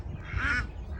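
A single drawn-out duck quack rises over a steady low rumble, with the start of another quack at the very end, all fairly close.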